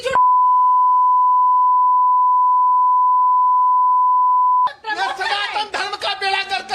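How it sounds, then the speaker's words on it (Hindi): A loud, steady censor bleep runs for several seconds over profanity, then cuts off abruptly as speech takes over. "जो जो बीप किया हुआ है ना वो गाली है।"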